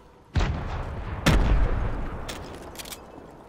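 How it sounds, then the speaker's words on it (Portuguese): Gunfire from the video game Fortnite: a sharp broadband shot onset followed by a second loud blast about a second later, each trailing into a rumbling decay with faint distant pops after, no voices. "Mano, tiro pra todo lado."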